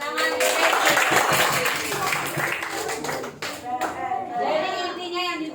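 Schoolchildren in a classroom clap their hands together in a busy, uneven patter mixed with young voices, the clapping fading as an adult voice begins speaking.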